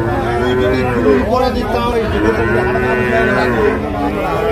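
A Sahiwal bull calf moos loudly and repeatedly up close at a cattle market, drawn-out calls rising and falling, with a busy crowd murmuring in the background.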